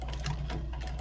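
Sewing machine stitching thick leather on Red Wing Iron Ranger boots, a steady, close, continuous mechanical whir with a rapid rhythmic needle chatter and a low motor hum throughout.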